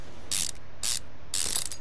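Ratchet undoing screws in Car Mechanic Simulator 2015, three quick bursts of bright mechanical clicking separated by short gaps, crisp and close with no talk.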